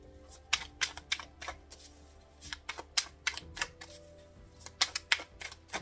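Tarot cards being shuffled by hand, a run of quick papery flicks and taps at an irregular rhythm, close and fairly quiet, with no talking.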